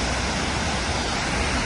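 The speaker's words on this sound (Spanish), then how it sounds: "Estamos en la cascada de Multihoma en Oregón." Multnomah Falls in Oregon pours in a dense, steady broadband rush of falling water, constant and close with no variation.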